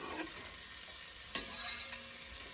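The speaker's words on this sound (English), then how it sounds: "the oil seems to be hot. So in goes the onions." Onions hit hot oil for Korean soft tofu stew, setting off a quiet, steady sizzle with faint stirring and light pan contact, heard close up with no talk.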